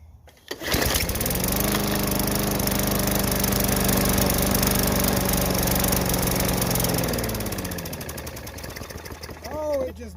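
A Craftsman lawn mower with a Briggs and Stratton 500e engine, a free curb find that would not start, fires up and runs loudly and steadily for several seconds before winding down and dying, with a voice talking over it near the end.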